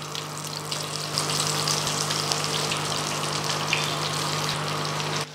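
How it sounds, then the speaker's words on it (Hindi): Pieces of fish dropped one after another into hot frying oil for street-style fish pakora, a steady close sizzle that swells after the first second and holds, with a constant low hum underneath. "अब ये जो मछली के पीसेज हैं इनको हमने इस गर्म तेल में शामिल करते जाना है।"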